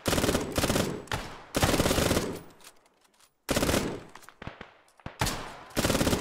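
Sustained machine gun covering fire in the video game Arma 3, a winter battle training scenario, loud bursts of rapid automatic shots broken by short pauses, with distant gunfire between bursts.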